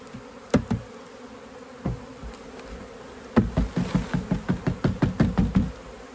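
A honeybee swarm hums after being shaken into a Kenyan top-bar hive, with a faint buzz under a series of close knocks that quicken into a rapid, rhythmic run of taps near the end.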